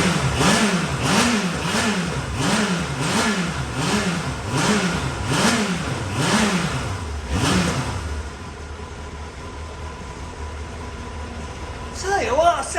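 A Kawasaki ZX7R motorcycle engine, revived after decades in storage, revs in a rapid series of rising and falling blips, then settles into a steady idle under a voice.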